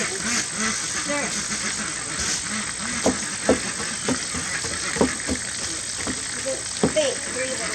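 Ducks quack in short repeated bursts on a small farm, close and moderately loud, amid steady background noise and occasional sharp knocks.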